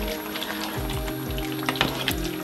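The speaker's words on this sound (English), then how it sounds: "I'm stirring up" A vegetable stew of seven vegetables being stirred in a pot, with soft scraping strokes over a gentle bubbling simmer, faint and close with no speech.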